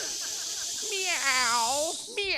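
A person imitates a cat's meow with a drawn-out, wavering vocal wail and a short second call, heard over a steady hiss of background noise.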